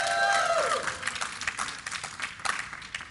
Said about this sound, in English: Let me hear you guys cheer in the audience.